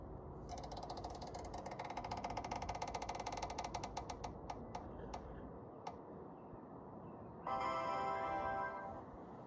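Spinning prize wheel ticking rapidly at first, the clicks spacing out and slowing to a few last ticks as it stops, followed by a short burst of bright tone near the end.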